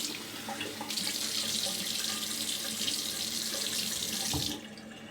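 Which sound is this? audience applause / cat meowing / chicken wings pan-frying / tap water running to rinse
tap water running to rinse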